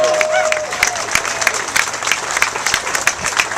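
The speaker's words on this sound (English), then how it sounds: "Let's give Joe a great round of applause for coming back to Peterstown." Audience applause welcoming Joe Long back to his old Peterstown neighborhood in Elizabeth, NJ, a steady broadband wash of many hands clapping, fairly close and sustained, with faint crowd noise mixed in.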